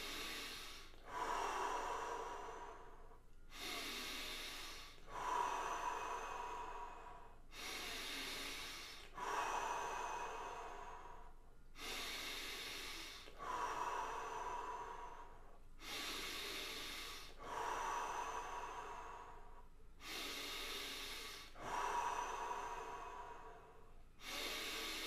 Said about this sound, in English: 30 times, nose in, mouth out, fill up your belly, then your chest